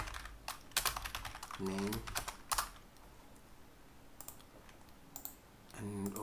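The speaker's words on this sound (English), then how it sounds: "I'm just gonna type passenger" Typing on a computer keyboard, a few clustered bursts of quick, close key clicks with pauses between them, and a brief spoken word over the clicking.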